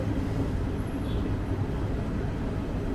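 A passenger train runs between Shoranur and Kollam, its steady low rumble and rattle filling the space continuously and evenly, heard from inside with no talk.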